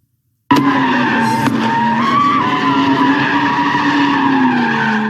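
At an Oakland street sideshow, a car engine suddenly roars up and its tires squeal in a long sustained skid while doing donuts, loud and close, the screech wavering as the car spins.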